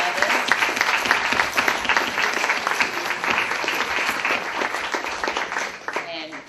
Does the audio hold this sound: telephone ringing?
no